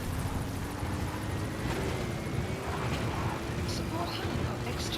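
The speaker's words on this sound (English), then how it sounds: "Support helicopter extraction arrived at Mother Base." A support helicopter in Metal Gear Solid V: The Phantom Pain arrives for extraction, its steady rotor and engine drone filling the whole stretch at an even, moderate level, with a faint rising tone running beneath it.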